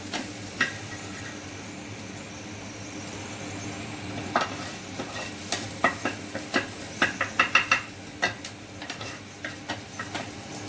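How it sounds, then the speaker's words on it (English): Onions sautéing in a pan toward light golden, a steady low sizzle with a run of sharp utensil taps and clicks in the second half, close and fairly quiet, no talking. "I just roast them or saute them until they are light golden in color."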